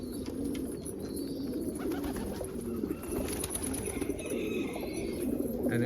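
Pigeons or doves coo and call steadily through a morning of light snow flurries, several birds close by with a continuous low murmur of cooing and occasional wing flaps.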